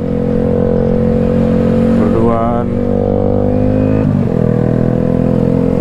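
A cold motorcycle engine idles just after rain at night, a close, steady low rumble with a brief rev partway through and a short spoken word over it.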